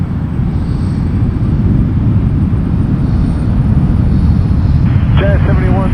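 A distant Air Canada airliner spools up for its takeoff roll on runway 06 left at Toronto Pearson, a steady broadband engine rumble that holds constant throughout, with a thin high whine above and a brief chirping burst near the end.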